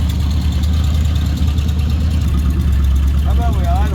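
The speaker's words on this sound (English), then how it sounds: "Can we idle the engine down a little bit?" The engine of a 1955 Dodge idles loudly and steadily up close, a deep continuous rumble that holds unchanged from start to finish.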